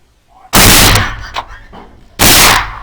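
Two loud, close rifle shots fired with Grendel ammunition at a boar outdoors, each a sharp crack with a long rolling echo, spaced about a second and a half apart.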